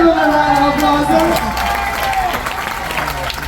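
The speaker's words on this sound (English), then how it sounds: "Let's give him a big round of applause, everybody." A crowd at Ocean World in the Dominican Republic applauds and cheers for Rodney, with clapping and whoops under a loud voice and music tones, all fairly close.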